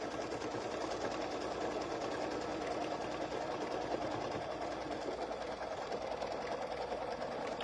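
Embroidery sewing machine stitching a Chucky pumpkin potholder in the hoop, a fast steady mechanical whirr with rapid needle ticking that runs continuously, close and uninterrupted, no talking.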